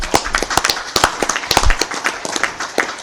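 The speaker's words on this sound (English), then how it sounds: "So give them a round of applause." A city council meeting audience gives a brief round of applause for staff, scattered individual claps that sound close and uneven rather than a full ovation.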